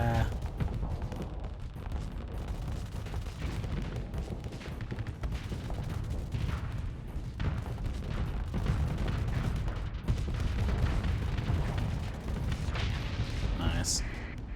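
Torpedoes and ship weapons firing in the space combat game Starsector, a dense, continuous barrage of booms and blasts, with a voice talking over the battle.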